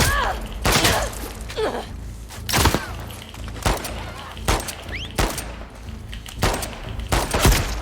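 Gunfire in The Last of Us Part II: about eight sharp, loud shots crack out at irregular intervals over a quieter rustling background, with a faint voice between them.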